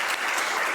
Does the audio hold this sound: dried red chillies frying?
no